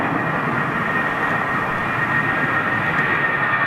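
Steady, broad jet roar from a British Airways Boeing 767 at London Heathrow Airport, loud and continuous with a faint high whine on top, no voices.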